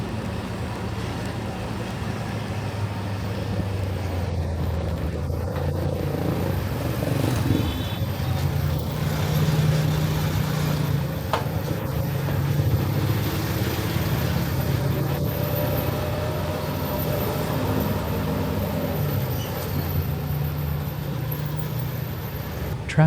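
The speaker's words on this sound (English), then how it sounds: "You begin to see the heavy trucks, roaring motorbikes, and custom-built utility vehicles" Heavy trucks and motorbikes at a night flower market in Vietnam, a continuous low rumble of engines and passing traffic at moderate distance, steady for the whole stretch with occasional faint background chatter.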